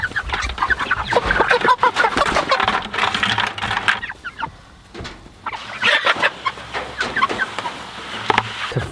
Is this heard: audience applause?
no